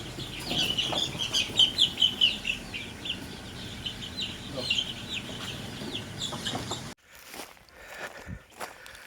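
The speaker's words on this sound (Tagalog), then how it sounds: "Nandito na po yung ating mga manok na" Newly bought hens and roosters cluck and chatter busily on a farm, with shuffling footsteps close by. Toward the end the clucking fades and scattered rustling and bumps take over.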